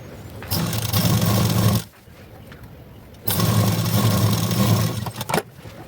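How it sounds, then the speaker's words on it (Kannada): A sewing machine stitches blouse lining in two steady whirring bursts, loud and close, each lasting a second or two, with a short quiet gap between them. "ಇಲ್ಲೊಂದು ಸ್ಟಿಚ್ ಹಾಕ್ಕೊಂಡು ಇಲ್ಲಿ ಫೋಲ್ಡ್ ಮಾಡಿಕೊಂಡು ಸ್ಟಿಚ್ ಹಾಕೊಳ್ಳೋಣ"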